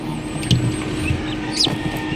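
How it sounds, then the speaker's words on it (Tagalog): Newly hatched chicks, sixteen hatched from a clutch of twenty-one eggs, give a few faint, high, brief peeps over a steady low background murmur. "ito naman po yung mga sisiw na yon"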